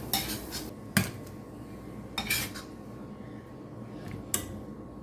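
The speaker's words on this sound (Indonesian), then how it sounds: "Tumis daun bawang pakai non halal." Spring onions are stir-fried in a pan with non-halal oil, and a spatula clatters and scrapes against the metal in sharp intermittent strokes over a low steady hiss, with no voices.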